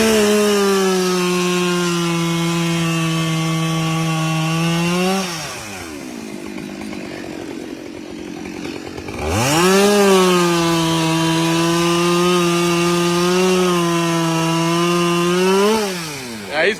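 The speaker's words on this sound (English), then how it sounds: "Husqvarna is cutting like a red tape." A Husqvarna chainsaw bucks a hickory tree top, sounding close and loud as the engine holds a steady high whine through two long cuts, with a brief idling dip in between and no talking.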